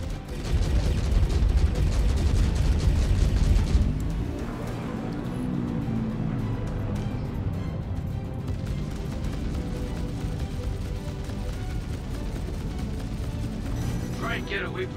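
Ship weapons fire in the Star Citizen space game during a duel between a Corsair and an Idris: a loud, dense barrage for about four seconds, then a sustained rumbling wash of battle noise.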